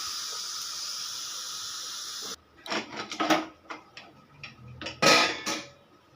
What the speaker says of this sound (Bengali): এবারে আমি ঢাকনাটা খুলে দেব।